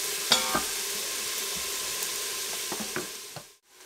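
Onions sauteing in an Instant Pot and a Kasori, a soft steady sizzle with a few scraping and clinking stirs of a utensil before a sudden drop to quiet.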